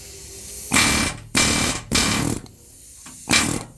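A rivet gun fired one-handed while setting rivets on a 3-link coilover frame kit for an OBS truck gives four loud, short bursts of rapid hammering, each roughly half a second long, with brief pauses between them.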